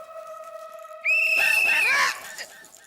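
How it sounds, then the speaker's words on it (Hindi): A loud, shrill whistle is blown in one sustained blast of about a second, cutting in sharply over a quieter background and then breaking off amid commotion and voices. "टप्पू बंद करे ला, सीटी ला इधर।"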